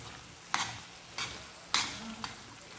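Dry coconut powder is stirred in a hot pan with coconut pieces, giving three or four distinct scraping strokes over a faint sizzle, close and fairly quiet.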